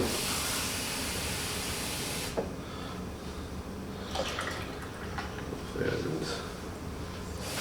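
Butter hitting a hot pan gives a loud, dense sizzling hiss that cuts off after about two seconds. A softer crackle with scattered pops and drips follows, while voices murmur in the background.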